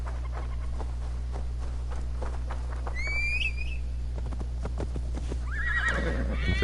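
Horse in Assassin's Creed Valhalla whinnying in a bright rising neigh, then a second whinny near the end, over steady clip-clop hoofbeats and a low constant game hum.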